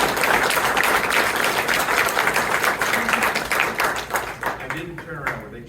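Crowd applause for new city care responders at a Seattle mayoral announcement of a public safety department, clapping fairly loud at first, then thinning into scattered claps near the end, with some voices mixed in.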